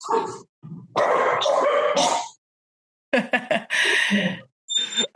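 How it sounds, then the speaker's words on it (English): Dogs bark and yip in short, loud bursts, with brief silent gaps between the outbursts. "Barking doggies."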